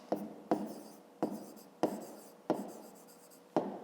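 A pen writes on paper while working a fifth-grade math exercise, making six distinct scratchy strokes at a steady pace, each with a sharp start that fades out, close up with no voice.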